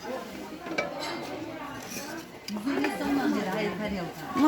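Ceramic cups and plates clink and rattle lightly as they are handled in a shop selling dishes, with steady conversation running over the faint clatter.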